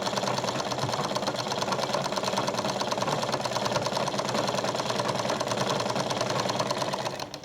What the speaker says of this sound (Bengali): সেলাই করছি, দুটো চাপ সেলাই দিচ্ছি